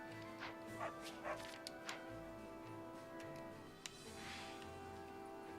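A pixelated beagle in the video game Fire Emblem Three Hopes gives a few short, faint barks and yips, scattered over a steady game music background.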